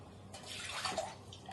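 Water sloshing and splashing as a cooking pot is rinsed, a short soft burst of running, swirling water.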